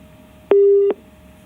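Telephone busy tone heard after a phone line disconnects, a single clear electronic beep lasting under half a second over faint background hum, no talking.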